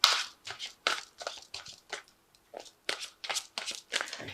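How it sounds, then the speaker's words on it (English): Angel Tarot cards being drawn and shuffled, with close papery riffles and flicks in uneven bursts and brief gaps between them. "I'm going to just draw some cards from the"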